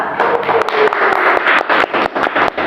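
A classroom group in a teaching session claps for the second group of students, a dense, steady burst of many hands applauding together, close and fairly loud throughout.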